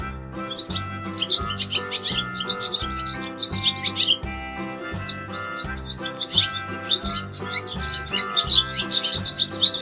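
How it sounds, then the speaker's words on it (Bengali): Bird calls from a tree, named as a dove, chirp repeatedly over a bouncy children's rhyme backing track with a steady beat, bright tweets running throughout at moderate loudness. "ঘুঘু পাখি ডাকছে গাছে"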